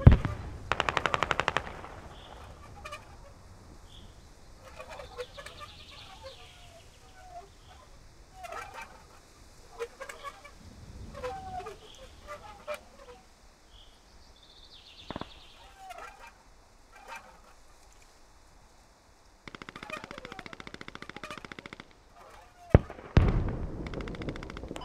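Mounted machine gun in the video game Squad firing in repeated bursts, sharp rapid rattles separated by quieter gaps, with a few distant shots and ambient battlefield noise between them.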